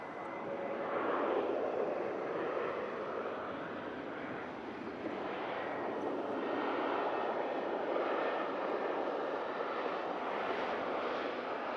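A Ryanair airliner landing at Manchester Airport after a flight from Charles de Gaulle makes a distant, faint engine roar that rises and falls gently over several seconds, with no voices.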